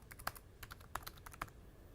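Typing on a Logitech Bluetooth Illuminated Keyboard: a quick run of soft, close key clicks in an uneven rhythm, with a few sharper strokes standing out, heard alone.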